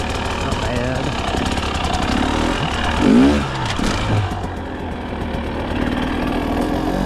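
A 2024 Husqvarna TE300 dirt bike engine drones and revs under way, rising and falling with throttle, close and loud, while a rider's voice speaks over it.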